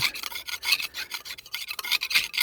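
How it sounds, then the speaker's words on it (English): Old mortar being scraped off the thick brick walls of a workshop, a rapid rough rasping in quick repeated strokes, close and steady. "So I'm going to try and scrape as much of this off as I can"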